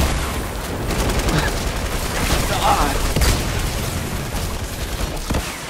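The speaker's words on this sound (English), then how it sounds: "Stop shooting me." Rapid gunfire in Fortnite on a zombie siege map, a dense continuous rattle of shots and impacts running under game noise throughout.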